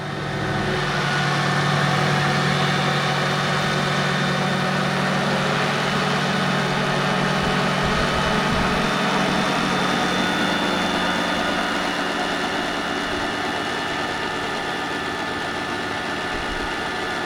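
Vario MD-500E radio-controlled model helicopter engine running steadily at close range, a continuous loud droning whine with a slight sag in pitch as the rotor RPM drops, alone without talk.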